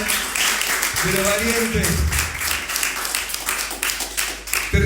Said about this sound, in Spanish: Dale el aplauso de grande